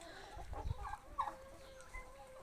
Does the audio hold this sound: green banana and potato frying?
no